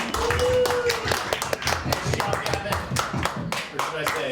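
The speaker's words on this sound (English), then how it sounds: "Give a big round of applause to the nav team." Children and adults at a space center mission simulation clap after a successful touchdown, a dense burst of close, sharp hand claps that starts loud and keeps going, with a voice briefly heard over it.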